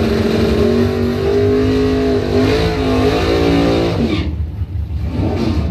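A drag racing dragster engine at a bracket racing event roars loud and close, its pitch climbing as it revs, then it cuts off abruptly near the end.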